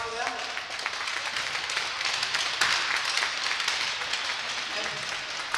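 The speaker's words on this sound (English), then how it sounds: "Round of applause for them." Crowd applause at a high school hockey game in an arena, a steady wash of clapping that swells briefly midway, with a voice faintly audible underneath.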